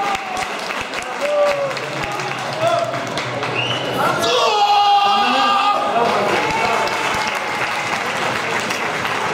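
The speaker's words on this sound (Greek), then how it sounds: "Ένα χειροκρότημα για τον Βαγγέλη." Crowd applause and encouraging shouts at an open squat max-reps weightlifting event, with clapping running throughout while voices call out and cheer over it, swelling briefly in the middle.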